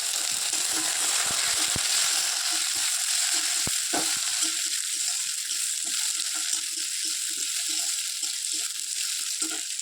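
Chopped tomato and green chili fry in a pan with a steady, close sizzle, with a few sharp clinks of a utensil stirring near the start and no talking.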